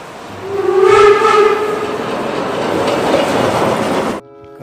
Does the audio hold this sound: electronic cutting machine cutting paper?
no